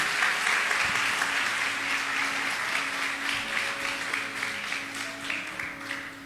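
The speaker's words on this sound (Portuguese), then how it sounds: "dá uma linda salva de palmas para Jesus" A church congregation applauds for Jesus in a warm, sustained round of clapping that fills the room and slowly tapers off.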